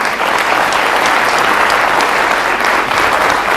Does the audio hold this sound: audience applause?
yes